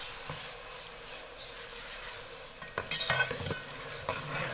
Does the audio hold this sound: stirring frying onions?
yes